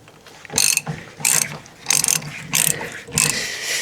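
A ratchet tightening bolts on an MG TF 115 sports car, five loud, close bursts of rapid clicking, each about a quarter second long, separated by short pauses.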